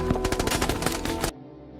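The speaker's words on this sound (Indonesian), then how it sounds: "Clay masih mampu melepaskan tembakan untuk membantu rekan-rekannya." Machine-gun fire from an action film, a loud, rapid burst of closely spaced shots that cuts off abruptly after just over a second, with no voices.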